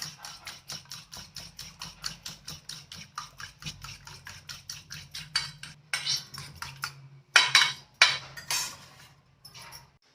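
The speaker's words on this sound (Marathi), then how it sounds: "एवढं छान असं फेटून घ्यायचा" A utensil whisks eggs with black pepper in a bowl for egg toast, a steady quick rhythm of metallic clinks against the bowl, fairly close, breaking into a few louder, faster scrapes and taps near the end.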